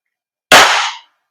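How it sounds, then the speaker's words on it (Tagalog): A WE Glock 17 Gen 5 airsoft gas blowback pistol fires a single sharp, loud crack at close range that dies away within half a second in an otherwise silent moment. "Pero putok test fire lang natin."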